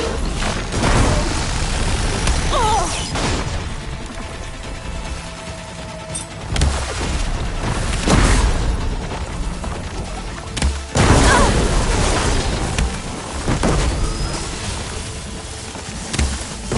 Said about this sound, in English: Fire a barrage!